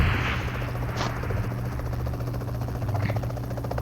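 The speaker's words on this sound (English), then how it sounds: "there's another helicopter here, guys." A helicopter in PUBG Mobile drones with a steady, dense rotor chop and engine buzz, loud and constant throughout, with a faint brief crack or two in the background.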